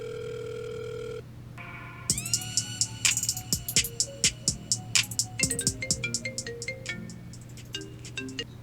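A sustained electronic tone cuts off, then a bright melodic ringtone plays in a quick, repeating pattern of plucked notes over a low hum.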